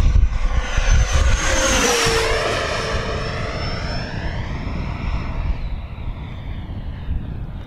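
An RC AeroFoam L-39 jet with tip tanks banks through steep turns overhead, its ducted-fan whine sweeping sharply in pitch as it passes close and loud, then fading steadily as it moves away.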